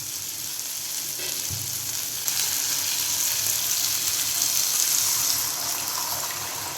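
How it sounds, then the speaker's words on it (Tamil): Tamarind water poured into a pan of sautéed vegetables with turmeric for sundakkai kuzhambu, a loud hissing sizzle surging as the liquid hits the hot pan, then a sustained bubbling fry. "இப்போ இதில் புளி கரைச்சி ஊற்றணும்"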